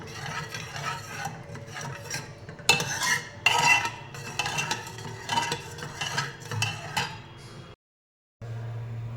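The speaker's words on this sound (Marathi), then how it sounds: "चमच्याची ही पाठीमागची बाजू आहे ना त्या बाजूने थोडंसं याला स्मॅश करायचं" Cooked onion and tomato being mashed with the back of a spoon in a pot for rajma, a steady run of soft scraping, pressing and clinking of metal on metal, close up, with a short silence near the end before it resumes.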